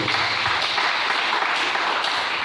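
A church congregation claps and applauds in praise, a dense, even wash of many hands that holds steady throughout, loud and close with no clear gaps.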